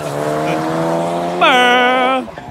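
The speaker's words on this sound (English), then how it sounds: "we're gonna do the launch control on his Ford here" A turbocharged 275-horsepower Ford car on a launch control start revs hard and steady, then shifts up into a higher, louder rising engine whine before dropping off, heard close and alone.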